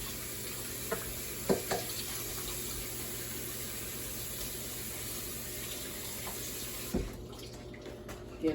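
Fish is rinsed under a running kitchen tap, a steady stream of water splashing into the sink, broken by a few dull knocks and clatters as the fish is handled.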